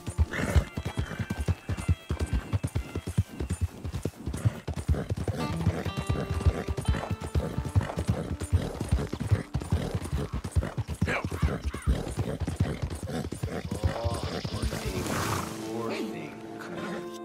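Horse hooves clip-clop steadily over a busy Red Dead Redemption 2 soundscape, with occasional whinnies and voices talking throughout.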